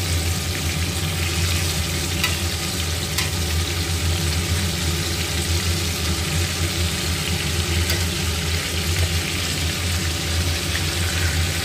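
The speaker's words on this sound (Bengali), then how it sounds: "দেখো একসঙ্গে বেশ কয়েক পিস মাছ একসঙ্গেই ভাজা যায়" Several pieces of rohu fish frying together in a large pan with a little oil, giving a steady, continuous sizzle close by with a low background hum throughout.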